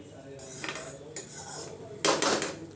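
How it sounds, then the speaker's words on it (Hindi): Steel cutlery and dishes clink and clatter at close range while a child's school lunch box gets packed in a home kitchen, with sharp bright knocks in short bursts and the loudest rattle near the end. "अब मैं उसका लंच पैक कर दे रही हूँ"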